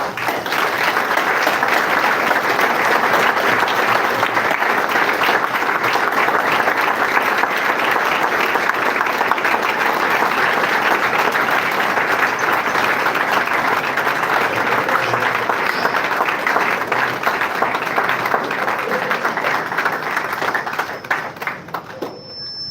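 Mourners at a funeral for an elderly woman applaud together, a dense, steady wash of clapping from a gathered crowd that holds for over twenty seconds before thinning out at the very end.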